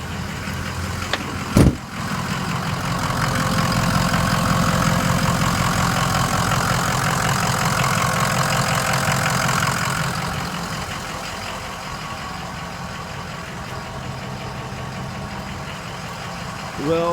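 A 2004 Ford Super Duty F-350 XLT 4x4 idles steadily, a close, even engine rumble after a sharp click near the start, growing slightly louder midway and easing back toward the end.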